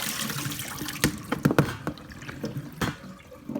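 Peeled potatoes are rinsed in water, with sloshing and splashing and several sharp clattering bursts as they are stirred and handled, fairly close.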